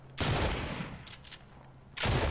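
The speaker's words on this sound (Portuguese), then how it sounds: "eu tava com a 12 e atirando de pertinho" Two loud, close shotgun blasts from a Fortnite duos match boom at the start and end, separated by a quieter stretch of game noise.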